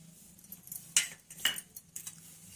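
A spoon adds salt to a cucumber and curd salad, giving a few light metallic clinks and taps against the bowl, close and fairly quiet, with no talking.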